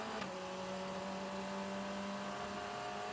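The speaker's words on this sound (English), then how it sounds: "you can hear off the engine note that the speed is building all the time" An FR World Cup race car accelerates during free practice at the Macau Grand Prix street circuit, its steady engine whine held fairly faint and distant against a constant background roar.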